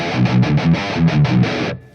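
Distorted electric guitar through a tube amp or amp plugin, a quick series of chugging palm-muted chords in a tight rhythm, close and loud, ending abruptly.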